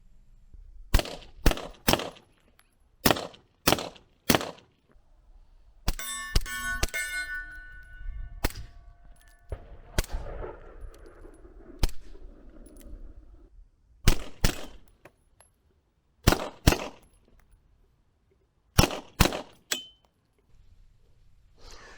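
Taurus GX4 Strike fired with a suppressor and subsonic ammunition, a series of sharp, close cracks in spaced pairs and bursts. Metallic clinks ring between the groups of shots.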